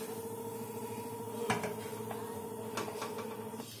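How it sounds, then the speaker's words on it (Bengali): A cooking pot lid lifted off a simmering oil-free chicken vegetable soup, giving a couple of short clinks and knocks over a steady low kitchen hum. "8 মিনিট হয়ে গেছে, আমি ঢাকাটা খুলছি।"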